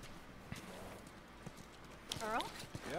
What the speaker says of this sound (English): It's a pretty horse.